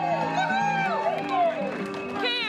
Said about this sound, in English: A vocal crowd is gathering.